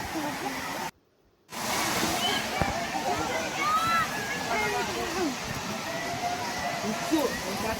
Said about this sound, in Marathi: आता पाण्याचा आवाज यायला लागला होता, म्हणजेच आता डालकी धबधबा जवळ आला होता